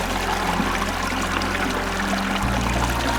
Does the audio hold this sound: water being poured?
yes